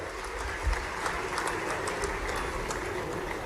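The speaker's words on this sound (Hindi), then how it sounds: "यशस्वी प्रधानमंत्री नरेंद्र मोदी जी के लिए जोरदार तालियां बजाओ" Crowd applause for Narendra Modi at a live public event in Khargone, Madhya Pradesh, a broad, steady wash of many hands clapping at moderate distance with a low rumble beneath.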